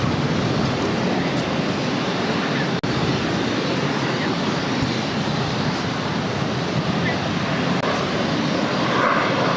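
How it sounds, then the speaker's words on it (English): A JetBlue Airways Embraer E190 jet takes off at Boston Logan, its engines a loud, steady broadband roar that holds without a break from start to finish, with faint background noise underneath. "this is JetBlue Airways 755 taking off to Washington Reagan National on an E190"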